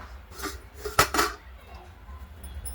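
Idli steamer plates and metal pots lifted out of a steamer after cooking, giving a few sharp clanks and clatters around one second, with faint rattles before and after in a quiet kitchen.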